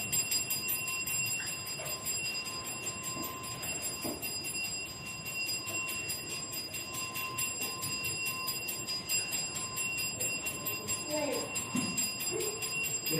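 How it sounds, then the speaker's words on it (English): A bell rings with steady, sustained tones through the whole stretch, over a constant background hum with faint scattered noises. "Listen to the sound of the bell."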